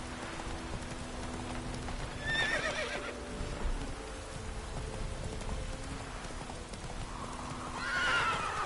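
Roach the horse in The Witcher video game, hooves clopping steadily through rain with two shrill whinnies rising above the patter, one early and one near the end.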